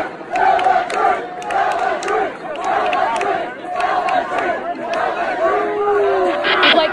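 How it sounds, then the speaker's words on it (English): Large crowd chanting and shouting in rhythmic bursts at reporters during a live news broadcast, loud and close, with overlapping voices and chatter throughout. "the crowd chanting at them to tell the bloody truth"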